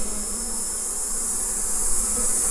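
Honeybees hum around an open beehive during a calm hive inspection, a continuous, even droning buzz close by with no talk over it.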